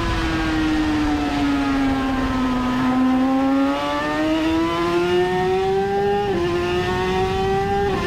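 A Super 500 two-stroke racing motorcycle engine drones loudly and continuously nearby, its pitch falling and climbing as it shifts gears, with a sharp shift jump near the end. No one speaks.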